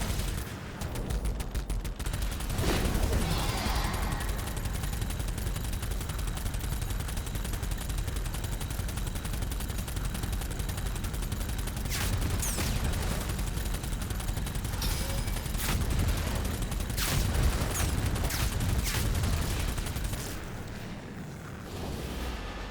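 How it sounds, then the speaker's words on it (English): Dragon-mounted autocannon in Doom: The Dark Ages, firing rapidly and continuously with loud, dense bursts and heavy booms for most of the stretch before easing off at the close. "Using your autocannon RT while boosting will increase its fire rate."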